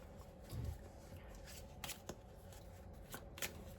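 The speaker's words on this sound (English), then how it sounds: "Maybe I will draw from the Andean Healing Card Energy, or Andean Healing Energy cards." Oracle cards from an Andean Healing Energy deck being shuffled by hand, a few soft riffling bursts and flicks spread over a quiet indoor moment with no talking.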